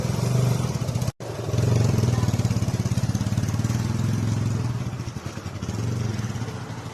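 A motorcycle engine runs steadily and close by as the bike pulls away, with a loud mid-low throb, a brief cut-out near the start, then a sustained rumble that rises and dips slightly.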